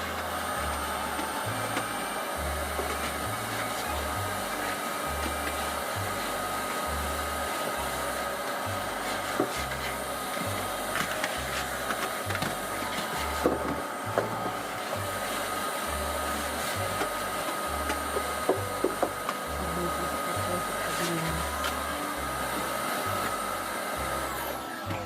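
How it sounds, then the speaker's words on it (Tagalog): A steady, loud motorized whir of a vacuum cleaner runs continuously, with occasional rattles and bumps as it moves, and no talking. "Vacuum muna tayo dahil masyadong maalikabok."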